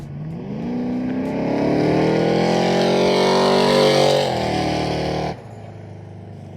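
A 1978 Chevrolet Malibu race car's engine revving loudly up through a rising, harmonically rich roar, holding high for a few seconds before dropping abruptly back to idle, close and without talking.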